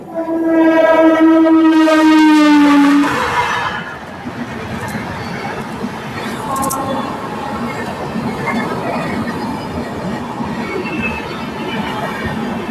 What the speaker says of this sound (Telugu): గూడ్స్ బండి వచ్చేసింది.